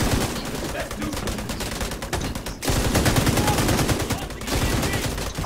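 Dense bursts of automatic gunfire in Tom Clancy's The Division 2, loud and rapid, with a brief pause midway before the shooting resumes, faint voices in the background.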